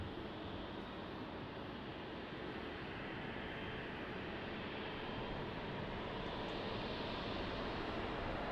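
Jet airliner taking off from runway 20 at Lisbon Airport, a steady broadband engine roar that holds loud and unbroken throughout, with no voices over it.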